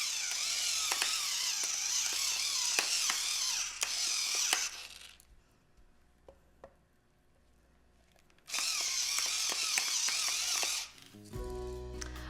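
Coarse pepper being ground onto a sirloin steak, a close mechanical grinder crackling in bursts with a quiet pause between runs.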